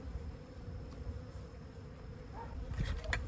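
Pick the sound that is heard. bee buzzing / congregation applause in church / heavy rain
bee buzzing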